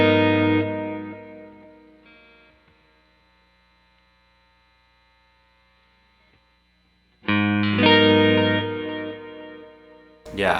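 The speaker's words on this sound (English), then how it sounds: "let's take a look at the spectrum of tone control and how much that can dictate the sound of our repeats." An electric guitar through a Keeley Halo Andy Timmons dual echo pedal, with its tone control being adjusted, plays a sustained chord that fades into long, faint echo repeats and hum, then a second loud strummed chord rings out near the end.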